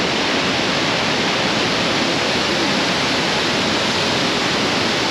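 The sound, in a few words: water falling fast at a waterfall in Bosnia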